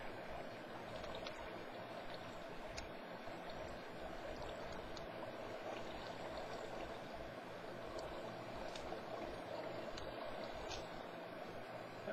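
Water flows steadily in the Minecraft video game, a quiet, continuous stream-like rush and trickle with no break, heard alone at low volume.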